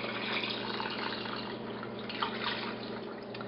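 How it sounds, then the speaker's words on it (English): Water poured into a cooking pot of rice and lentils for kitchari, a steady broadband splashing stream that runs continuously and fairly close, with no talk over it. "Adding about 5 cups of water creates a pretty soupy consistency of like a rice and lentil soup."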